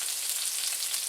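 Ground beef hamburger steaks fry in a cast iron skillet, giving a steady, close, bright hiss and crackle of sizzling fat with no voices.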